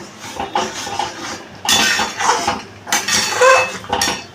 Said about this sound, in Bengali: এবারে আমি আবারও এটাকে ভালো করে মিশিয়ে নিলাম।